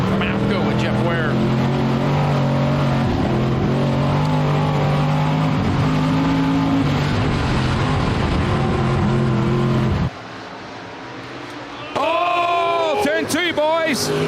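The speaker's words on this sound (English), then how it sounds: "Going to chase Krogmeyer as we go on board from APCO with Jeff Ware." An in-car camera rides with the number 83 dirt-track race car at Boone Speedway, Iowa, its engine loud and close as it revs and shifts, briefly dropping near the end, under a commentator's talk.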